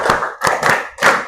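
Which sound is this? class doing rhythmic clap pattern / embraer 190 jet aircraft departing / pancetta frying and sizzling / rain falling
class doing rhythmic clap pattern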